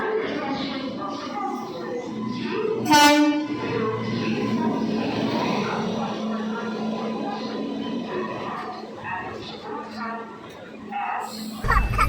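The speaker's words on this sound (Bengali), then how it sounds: "হাওড়া থেকে আসা গণদেবতা এক্সপ্রেসের আনরিজার্ভ কম্পার্টমেন্টে আমি উঠে পড়লাম" Steady rumble and rattle of the Ganadevata Express from Howrah, heard from inside a crowded unreserved compartment, running continuously under constant overlapping passenger chatter.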